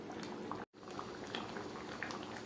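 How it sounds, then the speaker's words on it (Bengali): Katla fish with gathi kochu simmers in gravy, a faint, steady bubbling and burbling broken by one brief dropout. "গ্রেভির সাথে মাছ আরও 3-4 মিনিট রান্না করব।"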